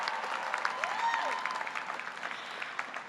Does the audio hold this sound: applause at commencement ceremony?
yes